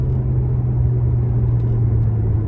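Steady, loud low drone of a 2003 Ferrari 360 Spyder's 3.6-liter V8 heard from inside the cabin, an even rumbling hum cruising without change.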